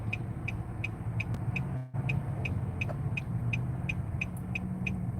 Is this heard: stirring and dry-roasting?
no